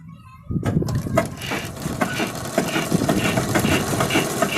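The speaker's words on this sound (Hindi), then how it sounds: "तो चलिए पहले हम सिलाई करके दिखाते हैं" An industrial sewing machine starts up after a brief quiet and runs steadily, giving a fast, even mechanical whir with a rhythmic clatter. Someone talks over it.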